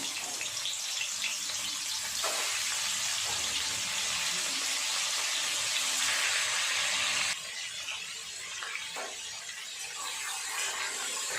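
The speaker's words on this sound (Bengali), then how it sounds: "তেল খুব ভালোভাবে গরম হয়ে গেছে দিয়ে দেব মাছের মাথা" Hot oil sizzles loudly and steadily as a fish head fries, a dense crackling hiss that briefly drops in intensity partway through.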